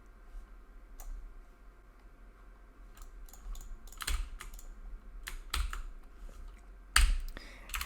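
Typing on a computer keyboard while modding osu! beatmaps, with sparse, irregular key clicks over a quiet hum, growing into denser bursts of louder clacks toward the end, no talking.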